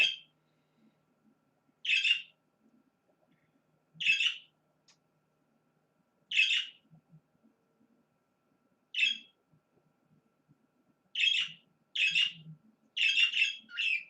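A bird chirps indoors or nearby, about nine short, sharp, high calls spaced irregularly, some in quick pairs, over a quiet background with faint low rustling.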